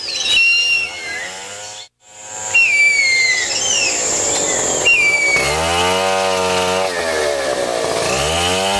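Chainsaws cutting kumaru hardwood trees in the Amazon rainforest, a loud close engine whine that cuts out briefly, then returns with rising and falling revving pitch under bird whistles.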